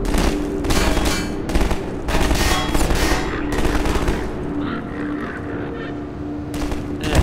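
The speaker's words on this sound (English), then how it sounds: "Where the hell is this shooting even coming from?" Gunfire in Half-Life 2 on a road trip level, a dense roar of overlapping automatic bursts and shots with rockets, loud and sustained, with a brief lull before firing resumes near the end.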